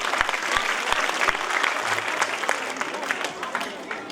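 Steady applause from a crowd at a school annual function, many hands clapping continuously with a few sharper claps standing out near the start.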